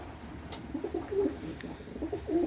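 Pet pigeons or doves on a home balcony in the evening, including a strongly singing male, give soft repeated coos and calls over steady low background noise, fairly close and moderately quiet.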